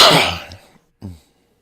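Two close coughs, the first longer and harsher, the second short, with silence after.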